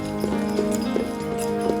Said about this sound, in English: it's yours for the asking with a classic horse-drawn carriage ride from Wild Iris Farm